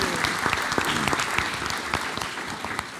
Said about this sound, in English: Let's give Ms. Griffin a round of applause.